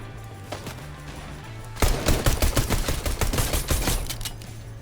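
Video game gunfire: after a low droning hum, a rapid burst of loud automatic shots rattles for about two and a half seconds, then stops abruptly as the weapon runs dry.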